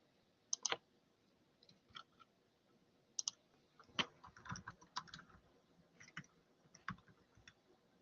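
Typing on a computer keyboard, close and faint, with irregular clusters of sharp key clicks separated by short pauses.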